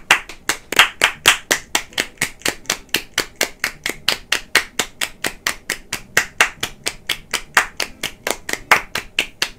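A redeemed applause clip during an Animal Crossing stream, heard as a single pair of hands clapping in a steady, evenly spaced rhythm, about four claps per second, close and crisp with no talk.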